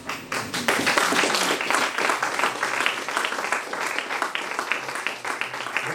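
Church congregation applauding and cheering at a French-language worship service, a dense steady wash of clapping with raised voices throughout, loud and close.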